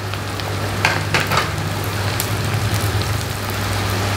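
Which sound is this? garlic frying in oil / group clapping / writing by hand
garlic frying in oil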